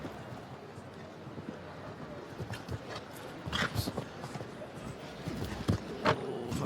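A big 10-year-old show-jumping horse, VDL Edgar M, moves around a Nations Cup course at St. Gallen. Irregular hoof thuds and clops sound at a distance amid wind noise and faint background voices.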